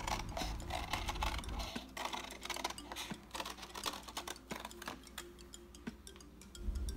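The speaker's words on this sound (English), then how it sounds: "then we're gonna cut out our circle" Scissors snip around a traced circle in cereal box cardboard, giving a quick run of close, dry crisp cuts and crackles with no talking.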